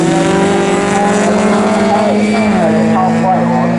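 MG Metro race cars in the MG Metro Cup at Snetterton circuit, engines droning loudly and continuously with rising and falling pitch as several cars pass, a race commentator talking over the noise.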